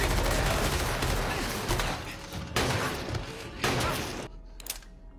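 Rapid gunfire in a Squid Game drama scene, a guard shooting down the other guards, with dense repeated bursts that break off into sharp gaps and a few last scattered shots.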